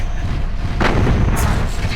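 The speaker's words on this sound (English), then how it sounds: "Munitions fire all over the place." Munitions fire in the MechWarrior 4 Mercenaries video game: dense, heavy booming blasts and rumbling impacts, with a sharp burst in the middle standing out against a continuous low roar of battle.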